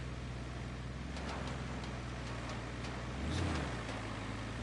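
A heavy truck in RoadCraft rumbles steadily at close range, pushing and driving over debris, its low engine drone continuous with a brief swell near the end and no talking.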